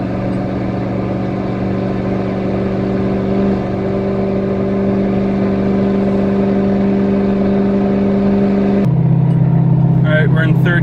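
A Ford Powerstroke 6.7 diesel truck climbing a big hill in third gear at about 19 psi boost, producing a steady loud drone that shifts pitch near the end, with someone talking over it.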